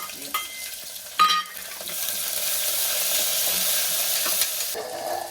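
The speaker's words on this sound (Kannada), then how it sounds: "ಆನಿಯನ್, ಈರುಳ್ಳಿ ಹಾಕಿ ಚೆನ್ನಾಗಿ ಫ್ರೈ ಮಾಡಿ" Chopped onions fry and sizzle steadily in a pan with oil for a menthya bath rice dish, with a few clanks of a spoon stirring near the start.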